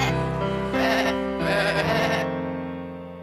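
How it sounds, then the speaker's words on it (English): An unhappy sheep on Craggy Island gives a long, loud, wavering bleat close by, lasting about three seconds and fading at the end. "Take me to see Chris, the unhappy sheep."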